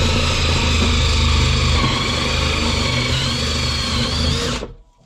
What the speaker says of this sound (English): you could probably get away with a 73mm hole saw, but because I want to get that junction box out as well, I'm using 76